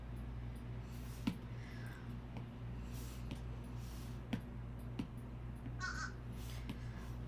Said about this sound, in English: I don't know if you guys hear that crow outside.